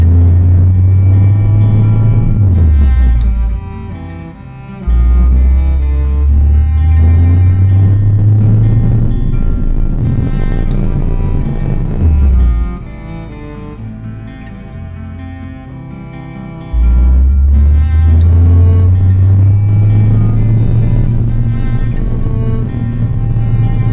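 A car engine revs up hard to about 3600 rpm in repeated rising sweeps, dropping back between pulls; the sound is loud and close, with a steady rumble and no talking.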